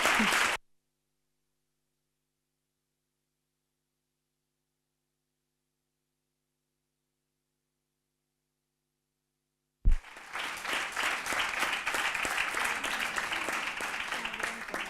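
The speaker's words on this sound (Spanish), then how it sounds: "un aplauso para todos esta mesa tan espectacular" An audience applauds a panel at a conference session on growing up between cultures. Near-silence gives way to steady, dense clapping that fills the last few seconds.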